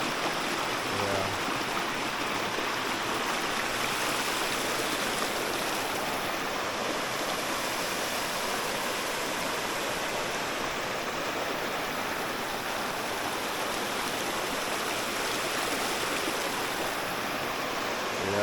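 A river in Jamaica flows steadily, a continuous watery rush with no voices, even in level throughout.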